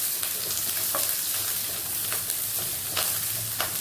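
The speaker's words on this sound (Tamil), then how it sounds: "எல்லாம் நல்லா வதக்கிடணும்." Green chillies and raw mango sauté in oil for a fish curry, giving a steady, even hiss with faint scattered pops, moderately close and free of talk.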